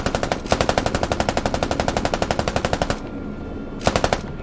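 Door-gunner machine gun on a Canadian CH-146 helicopter in the Squad video game, loud rapid bursts of fire, a long sustained burst, a short pause, then another quick burst, no voices.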